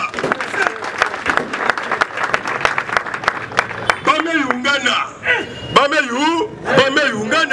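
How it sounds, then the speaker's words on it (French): Applause and cheering for a head of state fill the first four seconds as dense, loud clapping from a crowd, after which a voice sings or chants over the fading clapping. "Acclamez pour le chef de l'État"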